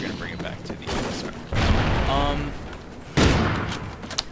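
Sniper rifle fire from the USR in the shooter game Call of Duty Ghosts, with two loud, sharp shots about a second and a half apart, each trailing off over a busy game background and speech.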